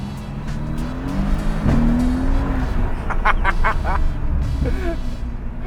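A Mercedes-AMG C63 S engine revs and drops off, followed by a quick run of sharp crackling pops from the exhaust, then another brief burst.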